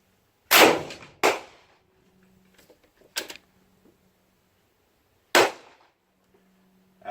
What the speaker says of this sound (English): And you just shot your first gun